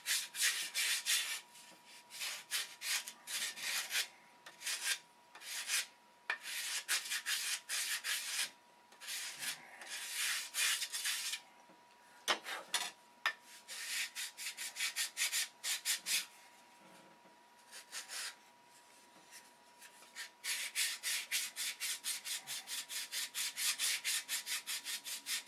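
Wooden boat ribs stacked together are sanded by hand for a CLC boat build, giving repeated dry rubbing strokes in bursts with short pauses, close and steady, no talking.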